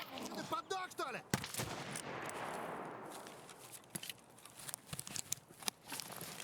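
Video game gunfire: sharp shots crack out in irregular bursts, some close and loud, others faint, with a brief rushing blast and scattered footsteps, mixed with a little background talk.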